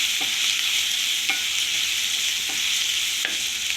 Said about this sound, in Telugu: ఉల్లిపాయలు బాగా ఫ్రై అయ్యాయండి